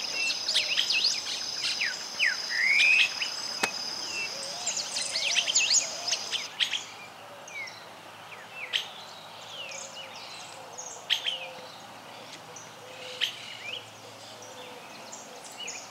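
Varied chirps, whistles and trills from birds fill a forest in Esperanza, Santa Fe, Argentina, dense at first and then sparser, with a few sharp calls nearby and insects faint beneath.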